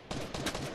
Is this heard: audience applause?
no